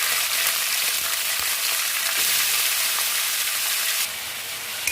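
Potatoes sizzle in hot oil with onion and curry leaves while being stirred, a steady close broadband frying hiss with faint scraping of the spoon, running continuously and dropping slightly toward the end.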